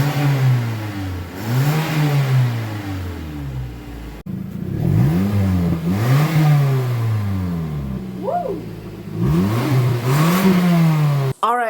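Modified Mazda 3 hatchback engine revving up and settling back to idle several times, loud and close, with rising and falling pitch sweeps and no talking.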